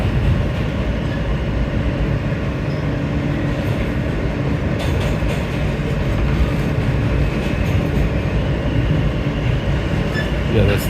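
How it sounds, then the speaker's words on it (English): A New York subway D express train on the legacy BMT line rumbling past on the Brooklyn–Manhattan route, a loud, sustained low roar with rail clatter and faint squeals over the full length. "Okay, I think that was a D train."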